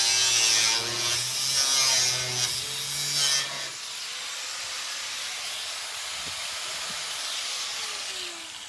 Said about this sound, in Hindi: तो ये एक्चुअली ग्राइंडर सा होता है, बड़ी मेहनत लगती है, क्योंकि भाई पूरा का पूरा लोहा है टोयोटा का